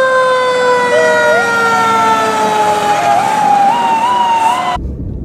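A North Wildwood fire truck's siren wails loudly and steadily while responding to a commercial fire alarm, its pitch gliding up and down over a rumbling engine, then cuts off abruptly near the end.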